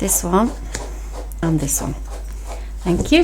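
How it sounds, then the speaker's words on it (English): A small pet dog panting in the background, a quick rhythmic breathy huffing under a woman's speech, with short gaps between her phrases. "If you hear any noise in the background, I apologise, my little doggy."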